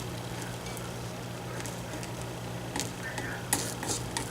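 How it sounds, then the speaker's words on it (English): A dill omelet sizzles and fries steadily in a pan on a stovetop, a continuous soft crackle with a few brighter pops and scrapes near the end. "we're going to let the omelet cook a little bit more"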